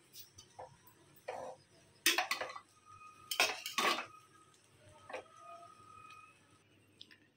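A spoon scrapes and clinks against a pan while egg fried rice is mixed, giving scattered metallic knocks and scrapes at close range in an otherwise quiet kitchen.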